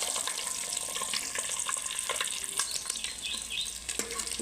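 Eggs fry in a pan with turmeric, giving a steady close sizzle and crackle with small sharp pops throughout and no talking.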